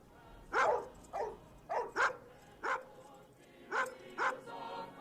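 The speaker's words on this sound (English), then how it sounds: "Doggos." Dogs bark in a film scene, a string of eight or so sharp barks in irregular pairs, moderately close and clear over a quiet background.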